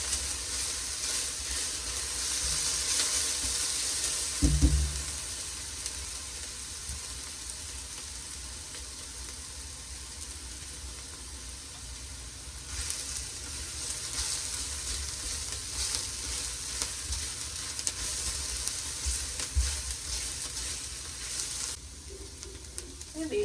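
Vegetables sweat in a pot for black bean soup with a steady, soft sizzle and low bubbling, nearby and even throughout, with one brief knock just before the five-second mark.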